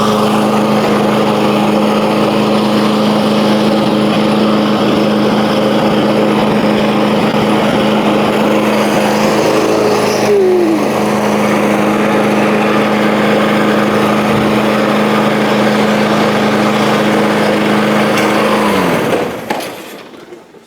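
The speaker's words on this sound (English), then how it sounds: "Fires right up." A Sam's Club self-propelled gas lawn mower runs at a steady, loud idle close by, its even engine drone holding for about nineteen seconds before abruptly cutting off at the end.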